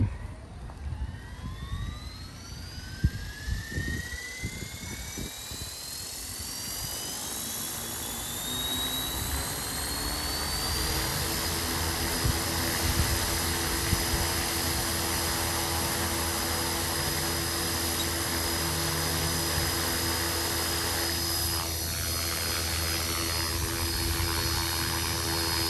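A Trex 450 RC helicopter motor spools up on a test flight, its whine rising steadily in pitch over several seconds. It then holds a loud, sustained buzzing drone with rotor hum, close by and with no talk.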